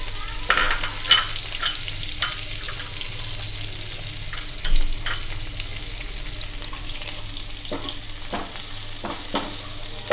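Onions, green chilies and chopped garlic sizzling in a pan for garlic mutton roast, with a steady frying hiss broken by several scraping stirs and spoon clinks, close and fairly loud.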